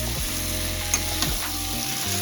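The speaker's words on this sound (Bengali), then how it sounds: "এখানে চিকেনটাকে কষানো হচ্ছে।" Chicken pieces are stir-fried in a pan for Bengali chicken curry, a steady crackling sizzle with a couple of light stirring knocks, moderately quiet and uninterrupted by voices.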